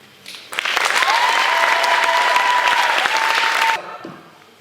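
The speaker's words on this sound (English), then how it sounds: "Make a sunny afternoon round of applause for Solanki!" An audience at a poetry reading breaks into applause, a sudden loud burst of clapping with scattered cheers and whistles that holds steady for about three seconds and then stops abruptly.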